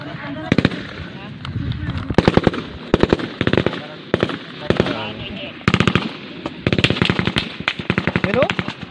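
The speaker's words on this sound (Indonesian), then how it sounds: "Pumutok sa kanan namin." Rapid bursts of automatic gunfire and single loud shots crack out in clusters during an armed encounter between NPA rebels and the military, close and sharp, with shouting voices between the volleys.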